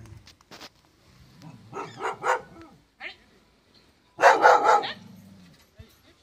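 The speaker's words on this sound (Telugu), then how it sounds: "కుక్క మురుగుతుంది." A village dog growls and barks in short bursts outdoors, a few close, loud barks spaced by quieter pauses and low rumbling.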